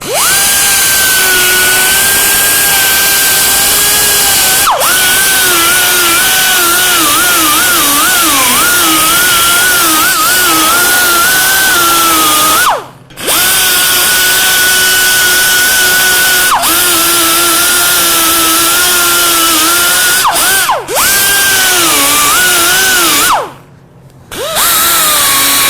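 Power tool deburring a bore, a loud close high-pitched whine running almost continuously with pitch wavering under load and two brief stops.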